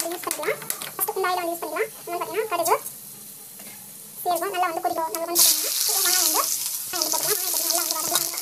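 A pan of frying food sizzles steadily throughout, with someone talking over it in Tamil and a louder hiss swelling near the end.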